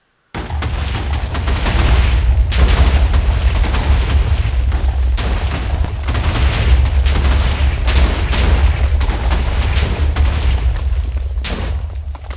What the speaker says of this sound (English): I'm going to leave off with an explosion